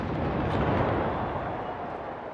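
A ceremonial gun salute booms at a presidential inauguration in Rwanda: one heavy, rumbling blast fills the whole moment and decays slowly, with no voices over it.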